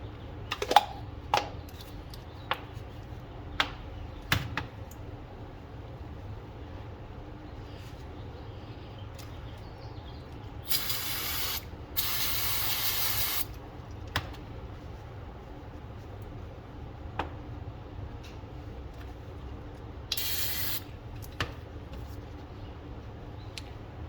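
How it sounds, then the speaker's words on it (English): Short hissing bursts of contact cleaner sprayed onto a magnetic drain plug during a Beta 250RR motorcycle oil change, two or three sprays amid scattered close clicks and handling taps in a quiet workshop. "we clean that up real nice using a rag and contact cleaner"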